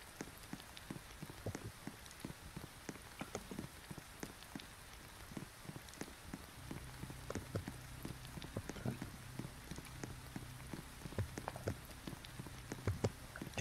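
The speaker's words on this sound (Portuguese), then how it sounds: "Tá chovendo muito aqui, pessoal." Heavy rain pattering steadily on surfaces outdoors, a dense continuous patter with scattered sharper drops and a low hum underneath, no voices.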